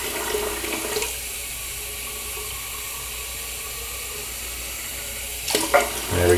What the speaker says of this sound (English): I'm going to now fill the scuttle portion with hot water.